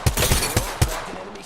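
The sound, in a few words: gunfire in video game Call of Duty Modern Warfare 2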